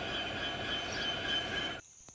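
A long freight train of wagons rolls past with a continuous, loud rumble and clatter of wheels on rails, which drops away sharply near the end, leaving a faint squeal.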